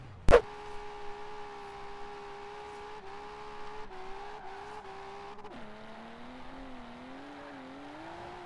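A Nissan R32 GTR with a Rocket Bunny kit drifts in Forza Horizon 4, its engine droning and rising and falling in pitch after a sharp hit at the start, without any clear tire squeal.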